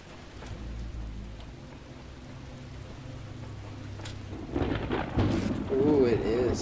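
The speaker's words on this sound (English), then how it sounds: "It's going to start up raining again." Rain pours steadily in the video game The Talos Principle while low thunder rumbles underneath, then a louder burst of storm noise swells near the end.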